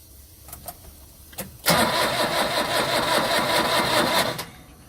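A 100-year-old truck engine, primed with WD40 lighter fluid, cranks with a few brief starter bursts, then catches and runs loudly with a rapid, uneven chatter for about three seconds before cutting off.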